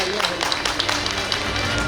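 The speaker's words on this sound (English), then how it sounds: "Let us have a huge round of applause" Audience applause at the 8th Chandigarh University online convocation, a dense, steady wash of clapping that carries evenly through the whole short stretch.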